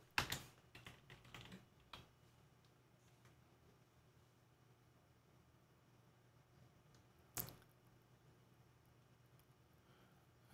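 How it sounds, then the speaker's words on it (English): Typing on a computer keyboard: a quick close burst of soft keystrokes, then near silence broken by one or two isolated clicks. "let's just type it in."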